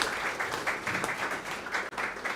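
A seminar audience claps steadily for the speaker, a moderately loud, continuous patter of many hands lasting a couple of seconds.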